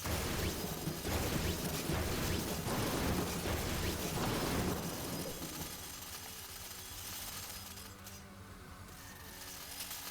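Rumbling, crackling bursts of a lightning attack in the game Boo Bunny Plague, loud and dense for several seconds before easing into a quieter electronic hum.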